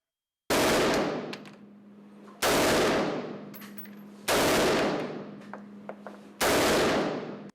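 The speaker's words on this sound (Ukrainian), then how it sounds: "Стріляли спочатку групами, а потім індивідуально, аби обрати найкращих." Four loud, sharp gunshots at a shooting competition, at steady intervals of about two seconds, each with a long ringing echo that fades before the next shot.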